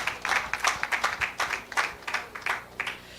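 Applause at a female lawyers' real estate conference, a fairly small group clapping in a distinct rhythmic pattern of separate claps, moderately close and clear.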